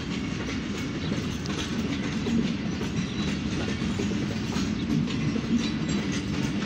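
The Allama Iqbal Express, hauled by a locomotive, pulls out of Drigh Road railway station with a steady, loud rumble and continuous clickety-clack of wagon wheels on the rails.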